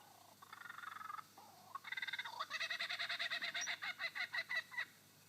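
A lyrebird mimics a kookaburra's laughing call in a forest, rising from rhythmic chuckling bursts into a loud rapid cackle that breaks into separate hoots, with no talk over it.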